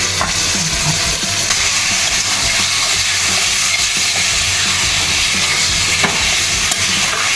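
Marinated chicken for a green chicken curry frying in a pan while being stirred: loud, continuous sizzle and hiss with occasional scraping and clinking of the spoon, close up and with no voices.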